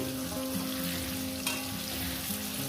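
Potatoes fry in hot oil, a steady close crackling sizzle with a faint tonal hum beneath, short and uninterrupted, with no talking.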